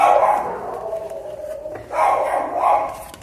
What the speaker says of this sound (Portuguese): Desculpa pelos cachorros latindo.